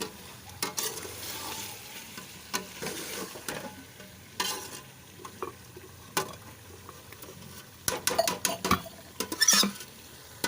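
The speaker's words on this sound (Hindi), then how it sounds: "अब इसमें हम जीरा डाल देंगे। जीरा डाल दिया, मिक्स करेंगे।" Potato and carrot curry cooking in ghee with cumin seeds is stirred, soft crackling sizzle punctuated by irregular scraping and clinking of a spoon against the pot, growing busier toward the end.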